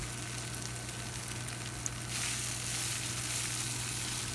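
Soaked poha (flattened rice) drops into hot oil mixed with turmeric, a steady close sizzle that grows louder partway through, with no talking.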